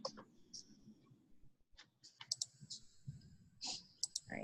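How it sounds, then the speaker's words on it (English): Quiet irregular clicks of typing on a computer keyboard, in short close bursts and isolated taps with brief pauses between. "typing in my email"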